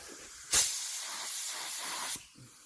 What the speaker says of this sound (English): Got a little lacquer thinner in it. Spray a little bit through.